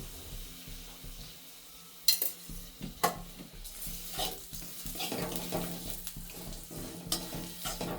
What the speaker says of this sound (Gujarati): ગોળને એકદમ સતત હલાવ્યા રાખવાનું છે.